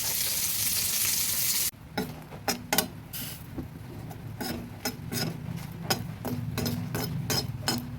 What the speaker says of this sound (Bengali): নেড়ে চেড়ে শুকনো লঙ্কাগুলো ভেজে নিচ্ছি।